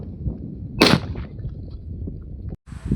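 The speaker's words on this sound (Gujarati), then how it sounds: "આપણે હવે ફટાકડા ફોડવા જઈએ" A firecracker goes off outdoors on a farm, one sharp loud crack partway through, set against low rumbling background noise and a faint hiss near the end.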